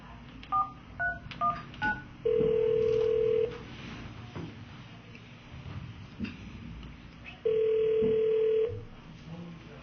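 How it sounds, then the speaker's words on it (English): Touch-tone keypad beeps dial a number into an automated phone line during a credit card call: four quick tones in a row, then two longer steady tones, fairly loud over a faint background hiss. "If you know your card is exception, please dial it now."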